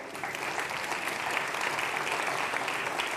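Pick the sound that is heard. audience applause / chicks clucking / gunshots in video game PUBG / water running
audience applause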